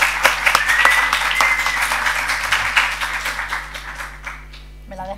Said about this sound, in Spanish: un aplauso ya que lo cuente ella